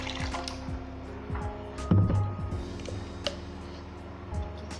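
Water is poured into a kadai on an induction cooktop, giving a brief splash and fill with scattered drips over a steady electrical hum.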